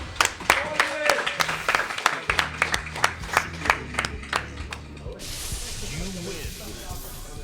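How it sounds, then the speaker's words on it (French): Audience at a Tekken video game tournament applauds with a burst of sharp, separate claps over a few seconds, close and fairly loud, while an announcer talks and the clapping tapers off. "Un tonnerre d'applaudissements."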